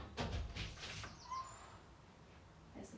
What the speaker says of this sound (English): There's the birds for you.